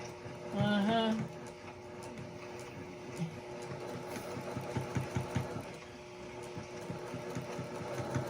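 A sewing machine stitches nearby at low volume in a series of rapid mechanical bursts, with a brief clearer whine near the start and faint background sounds throughout.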